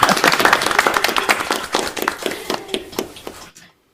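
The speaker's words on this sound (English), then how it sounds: "Clap, clap, clap, clap, clap, clap." An audience claps at the end of a spiritual talk. The clapping is lively at first, then thins into scattered claps and stops abruptly.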